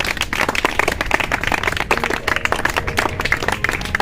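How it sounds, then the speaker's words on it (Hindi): Students in a Hindi language-development classroom clap their hands together, a close, steady and continuous patter of many hands that keeps going without a break and with no talking over it. "आप क्लैपिंग शुरू कीजिए।"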